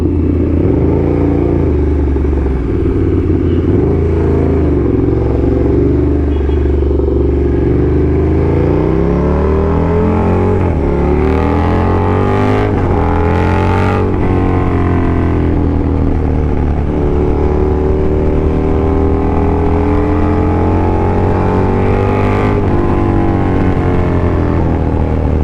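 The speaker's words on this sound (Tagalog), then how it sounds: "It's kinda traffic" Street traffic with motorcycles and cars close by: a loud, continuous engine rumble with passing vehicles and occasional revving, and no talk over it.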